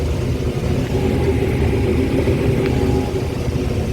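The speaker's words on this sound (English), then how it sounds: "I finally got my turn to drive the harvester." A corn harvester being driven at harvest gives a constant, loud engine rumble and drone with a steady mechanical hum, no breaks, heard from the cab.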